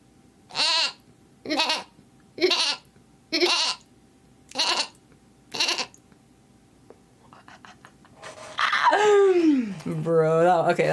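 A human voice imitates a lamb, giving six evenly spaced bleats up close, followed by laughter and a longer wavering bleat-like call.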